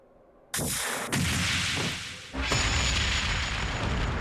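An improved orbal mine detonates in Trails of Cold Steel II: a sudden loud blast, then a second heavy boom about two seconds later. Each is followed by a long rumbling roar that carries through to the end with no voices.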